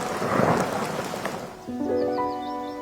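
Steady rain with a low rumble of thunder in the first half, fading as soft, sustained musical tones rise in the background.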